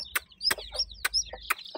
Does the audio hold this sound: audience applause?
no